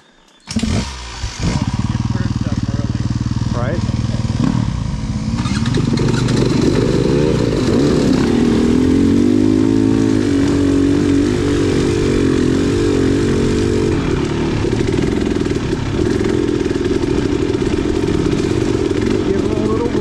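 A dirt bike starts and revs on the Hatfield McCoy Buffalo trail, its engine climbing into a loud, sustained, wavering drone that holds steady for most of the stretch, with voices talking over it.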